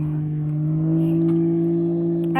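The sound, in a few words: loud car passing by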